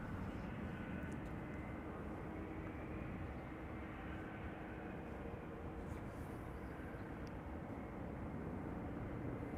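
United Airlines Boeing 767 at Amsterdam Schiphol Airport, its engines a steady, fairly distant broadband roar that holds at an even level for the whole stretch with no voices over it.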